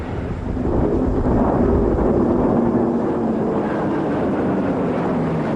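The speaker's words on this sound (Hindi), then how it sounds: "एक के बाद एक विमान हवा में उड़ान भरते हुए, आसमान को चीरते हुए भारतीय वायुसेना के शौर्य और साहस का परिचय" An Indian Air Force jet formation passes overhead at about 555 km/h during the Republic Day parade, a steady loud broadband roar that swells and holds without a break.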